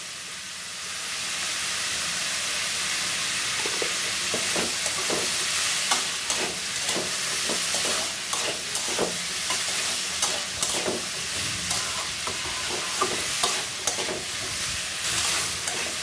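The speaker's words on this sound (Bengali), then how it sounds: "দেখো, ভালো করে নেড়ে চেড়ে নিলাম।" Potatoes and pointed gourd fry in a pan with a constant close sizzle, broken by repeated scraping and clacking strokes of a spatula stirring the vegetables.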